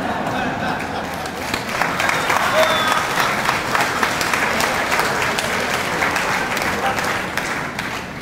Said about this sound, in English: And the way you have applauded